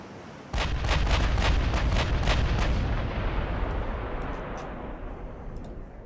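Battleship main guns firing in Ultimate Admiral: Dreadnoughts, the Nagato against Strasbourg, a six-gun salvo giving a heavy booming rumble with a rapid string of sharp reports, then a long fading roar. No voices.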